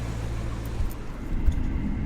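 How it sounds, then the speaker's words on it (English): An Audi R8 engine with a check engine light on runs steadily at idle, a low, fairly quiet rumble holding even throughout with only a small bump near the middle. "Engine sounds like it's running okay"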